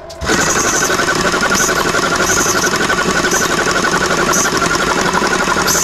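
A TUXING mini air compressor with a suspected check valve fault kicks on after a brief pause and runs with a loud, steady, rattling motor hum close by.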